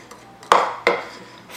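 Two sharp clunks a moment apart as a baked ziti dish is set into a home oven, clear and close with no talk.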